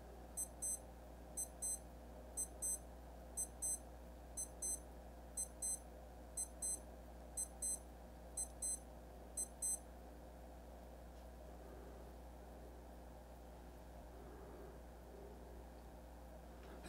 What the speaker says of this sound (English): the highest volume that comes up as a result of the alarm going off